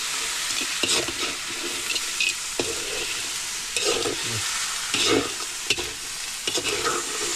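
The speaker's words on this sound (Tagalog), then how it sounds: "Tuloy-tuloy na po ang halo para po yung pong rekado po sumuot sa loob ng crabs." Crabs being stirred with seasoning in a cooking pot, a continuous close sizzle broken by repeated scraping and knocking strokes of the spoon against the pot, with no talking.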